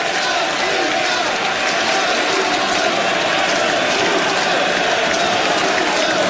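A minor-league baseball stadium crowd roars steadily through a bottom-of-the-ninth rally in a 2011 Tri-City at Vancouver game, a loud, dense, sustained wall of cheering and clapping that never lets up.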